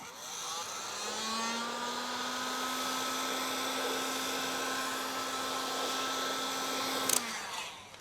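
Heat blower running steadily while warming the edges of headlight tint film, a sustained whirring hum with a constant tone that cuts off abruptly near the end.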